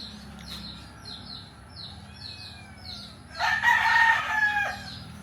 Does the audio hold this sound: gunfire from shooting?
no